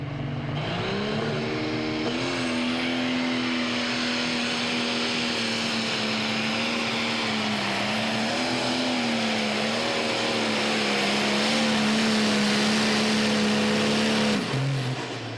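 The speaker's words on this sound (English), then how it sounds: "the Edge of Sundown is the next tractor up." A super modified pulling tractor roars at full throttle through a pull, a loud, sustained engine drone with shifting pitch that holds for about fourteen seconds before dropping off at the end.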